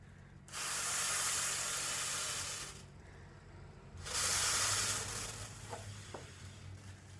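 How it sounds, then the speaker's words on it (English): A table-top column balloon being inflated through its valve gives two long, steady airy rushes of a few seconds each, separated by a brief pause, fairly close and moderately loud over low background rumble. "you just blow to inflate the balloon"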